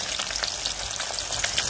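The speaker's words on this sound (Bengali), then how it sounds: "আমি এখানে কিন্তু আবার মাছটাও ভাজতে দিচ্ছি, তো মাছটা ভুনার জন্য ভাজা হচ্ছে" Fish frying in a pan for a bhuna curry crackles and sizzles loudly and steadily up close, with a rapid spattering patter running throughout.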